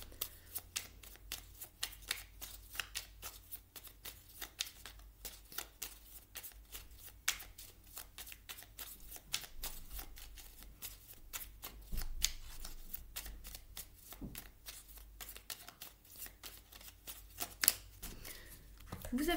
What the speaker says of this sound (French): On va aller prendre une carte maintenant du petit oracle